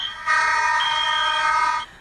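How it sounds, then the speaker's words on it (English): Smoke alarms give a shrill electronic alarm tone that sounds continuously for over a second, loud and steady, then cuts off abruptly. "Then, adding to the confusion, smoke alarms go off."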